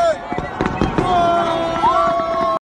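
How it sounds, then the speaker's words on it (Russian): New Year fireworks in Prague crackle and bang in a rapid, loud burst, with whistling streaks rising and falling over the pops, while voices speak through the noise. "Так, а пока у нас тут салют"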